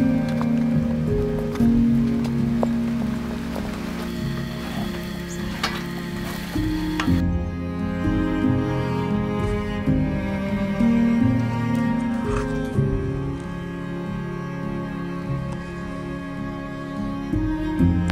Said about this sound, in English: Okay, it's really raining now.